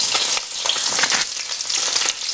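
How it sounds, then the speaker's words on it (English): Fish cakes made with Thai curry paste sizzle and crackle steadily in a frying pan, a close, continuous hiss with small popping bursts throughout. "So I've had these fish cakes cooking for about 4 minutes."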